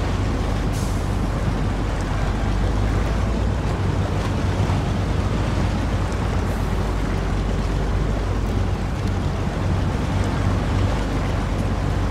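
A heavy truck pushes through water in SnowRunner, a loud, constant wash of splashing and rushing spray over a low engine rumble, dense and unbroken throughout with no talk.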